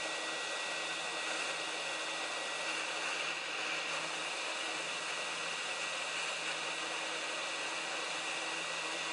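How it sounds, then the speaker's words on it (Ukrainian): A hair dryer heating a thermostat's temperature sensor blows with a steady, close whooshing hum that holds unchanged the whole time. "Гріємо феном"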